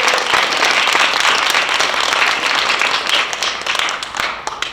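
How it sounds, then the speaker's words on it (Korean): An audience claps in sustained, dense applause at a student project presentation contest at a youth hero camp, steady and loud for the whole stretch before tapering slightly at the end. "박수 한 번만."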